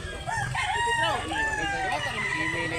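A rooster crows at a chicken sale in Mantalungon, Barili, South Cebu. One long, wavering call sounds close and loud over a steady hum of background noise.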